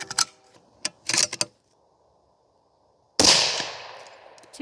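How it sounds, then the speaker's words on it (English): A rifle fires during a seating-depth ladder test, with bullets seated twenty thousandths off the lands. A few sharp cracks come early, then one loud, close shot rings out and decays over more than a second. "we're gonna be shooting 20 thousandths off the lands."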